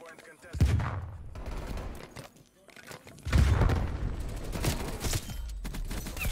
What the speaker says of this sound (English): What was that gunfight?